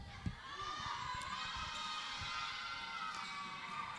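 White Tigers crowd cheering at a juniors basketball game, a faint distant wash of shouting and cheering voices with a few higher children's yells and a brief thump near the start.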